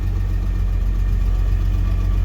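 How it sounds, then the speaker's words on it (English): Car engine idling steadily while warming up in freezing cold, a constant low rumble with a faint uneven knock, near and fairly loud, with no talking. "the engine is starting to warm up just a hair"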